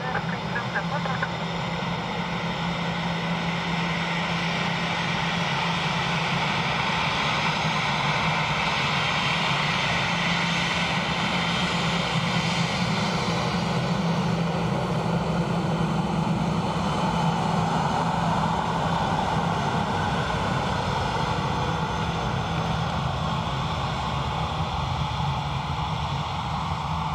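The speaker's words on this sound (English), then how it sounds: "Little bit of reverser action from Mel" A landing airliner at Dublin Airport runs its engine reverse thrust in a sustained, heavy roar that builds slightly and holds loud for the whole stretch, a deep rumble under a rushing hiss.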